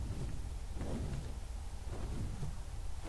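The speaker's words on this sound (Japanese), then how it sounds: "え、雷の音。" Thunder rolls through a dark, snowy mountain area in the video game ARK Survival Evolved (Crystal Isles map), a steady low rumble with heavier swells that fills the whole stretch without any talk.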